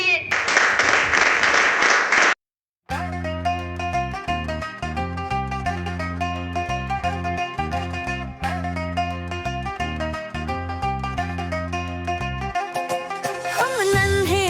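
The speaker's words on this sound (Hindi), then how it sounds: "तालियों के साथ स्वागत करिए।" Audience applause welcomes student performers at a school farewell program at Vandana Inter College: about two seconds of dense, loud clapping, then a brief silence before music with a steady beat takes over.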